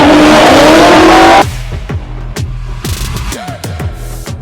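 Loud drift car at a Drift Masters motorsport event in Finland, engine roaring with sustained tire squeal for over a second before cutting away to quieter crowd and track ambience with sharp distant bangs.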